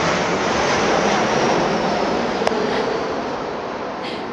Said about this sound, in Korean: 지금 들리시는 이 비행기 소리 들리시죠?